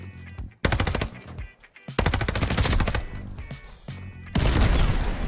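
Cooper Carbine fired in a video game: loud, close bursts of rapid automatic fire, several sustained strings of shots separated by brief pauses.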